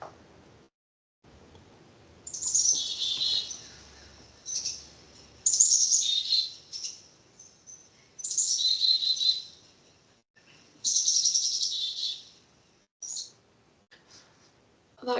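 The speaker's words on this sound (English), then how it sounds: "if you hear a black-capped chickadee during the breeding season," A black-capped chickadee in breeding season gives repeated bursts of high, clear calls in short phrases separated by brief pauses, with faint insect-like ticking in the quiet gaps.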